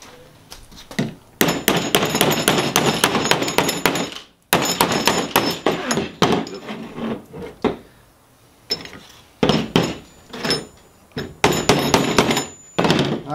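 A hammer bangs a shock sleeve into the suspension of a 1997 Toyota Land Cruiser 80 Series during a Bilstein 7100 shock install, with loud, close metallic blows in rapid bursts separated by short pauses.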